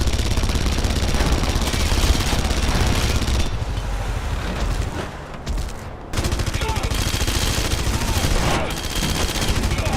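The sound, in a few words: gunfire sound effects in video game Red Faction Guerrilla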